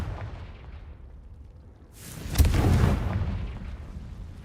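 Confringo explosion spell cast in Hogwarts Legacy inside a cave: after a quiet low rumble, a sudden loud blast erupts and rolls on as a roaring burst that slowly tapers off.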